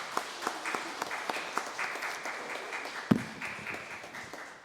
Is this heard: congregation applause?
yes